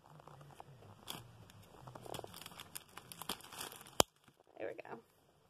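Regular scissors snip thin wire in a few crisp, close cuts with crinkly handling noise, ending in one sharp loud snap followed by brief rustling.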